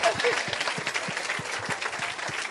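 A church congregation claps and cheers during a service of confessions, brisk overlapping applause at moderate distance with voices mixed in.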